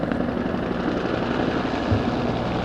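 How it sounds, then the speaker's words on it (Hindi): A formation of Cobra attack helicopters flies past during a Pakistan Day parade air show, making a loud, continuous rotor drone that stays steady across the whole stretch, with no talk. "फ्लाई पास्ट में सबसे पहले अशदर शोला फिशा फिजाओं में हैबत की जलगार कोबरा अटैक हेलीकॉप्टर्स की फॉर्मेशन"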